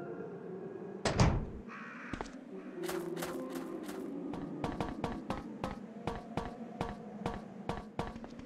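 Crows cawing in the video game Resident Evil 2, several harsh caws and flapping bursts mixed with a loud thud near the start, then a rapid series of sharp repeated hits and squawks over a low ambient hum.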